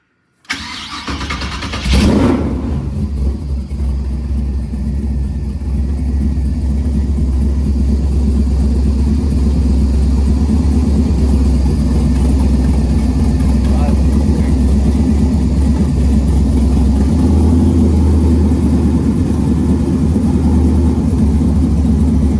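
A car fitted with side pipe exhausts fires up with a sharp start, then settles into a loud, deep, steady engine rumble that continues close by for the rest of the clip.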